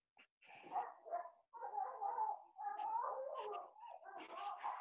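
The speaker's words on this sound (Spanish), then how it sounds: "se pusieron a pelear los perros de los vecinos." Neighbours' dogs fighting and barking, a continuous muffled stretch of yelps, snarls and barks that sounds somewhat distant and runs for several seconds.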